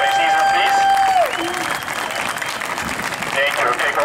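A crowd applauds the leadership team at a high school band showcase, dense clapping under a sustained tone that fades, with voices mixed into the applause.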